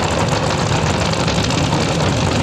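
A nitromethane-fuelled front-engine top fuel dragster idles at a drag racing event, a loud, close, rough rumble that stays constant throughout without any talk.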